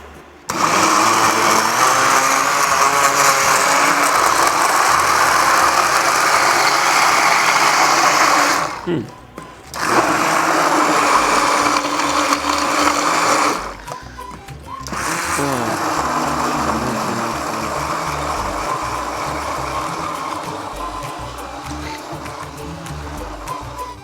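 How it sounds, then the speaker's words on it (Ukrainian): A blender whirs loudly and steadily for a long stretch, whipping persimmon soufflé with yogurt and agar-agar, stopping briefly twice before starting again, with faint background sound throughout. "зараз я буду е, трішки оце збивати блендером"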